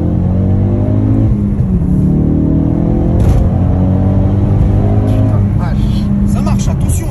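A sports car engine revs and rumbles steadily at close range for several seconds, a deep rising and falling drone, with someone talking in French over it.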